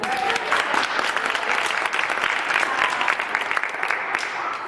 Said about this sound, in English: You can definitely applaud that.